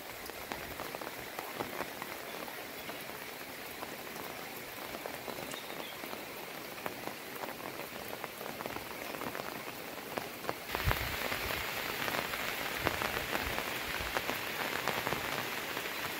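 Heavy monsoon rain pours down in Konkan, a dense continuous hiss of drops drumming on surfaces, close and steady, growing noticeably louder and harsher partway through.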